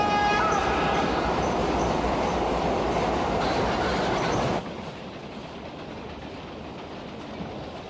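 A subway train car in an anime rattling along the rails, a loud steady rumble with clattering wheel noise that suddenly drops to a quieter rolling drone partway through.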